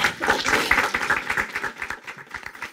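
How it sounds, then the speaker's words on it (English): Several people clap for first-time attendees standing up at a Saturday-morning meeting, a moderate, uneven burst of hand claps that thins out near the end. "Clap, clap, clap, clap, clap."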